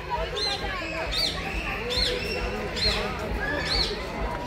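Lutino parakeets calling at a zoo in Kolkata, sharp repeated squawks every second or so, mid-distance, heard under a voice talking.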